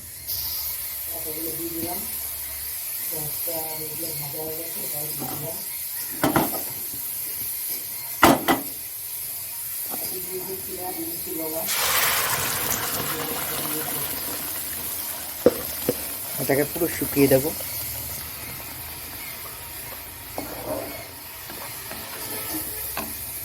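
Bengali spice paste drops into hot mustard oil in a wok with a brief burst of loud hissing sizzle, then a quieter crackle, while someone talks over the cooking.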